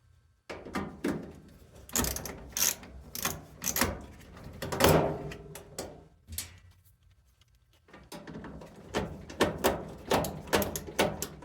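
Screws being removed from an LG dryer panel make a series of close, dry mechanical clicks and ratcheting scrapes in bursts, separated by short pauses.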